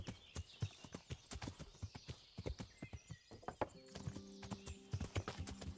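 In Kingdom Come Deliverance, a horse named Pebbles walks with steady, close hoof clip-clops, and a brief whinny comes near the end.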